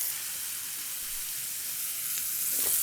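Wagyu filet steak, cooked sous vide, sizzles steadily in a hot oiled pan, a close, continuous frying hiss with a brief flare near the end and no talk over it.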